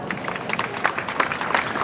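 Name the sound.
crowd applause welcoming the mayor of Padova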